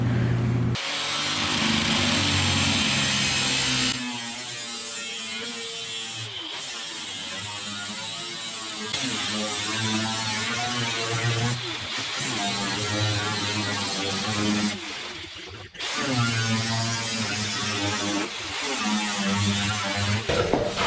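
A cutting wheel grinds steadily through parts on a rusty Plymouth Duster in a garage, a loud continuous abrasive whine that shifts in pitch as it bites, with brief pauses and no talking.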